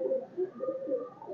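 Large breeder pigeons coo in a low, soft, warbling rhythm of repeated pulses, close by and steady, with no one talking.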